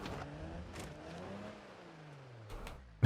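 An air-cooled inline-six in a crawler in BeamNG.drive, off-road at Johnson Valley, revs steadily with a rising and falling engine tone, close and continuous, ending on a sharp knock.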